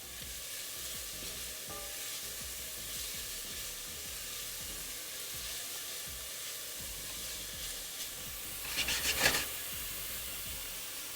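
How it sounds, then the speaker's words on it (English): Feta and spinach stuffed pork loin sizzling in a pan, a quiet steady hiss throughout with a brief crackling flare near the end. "This is frying up so good."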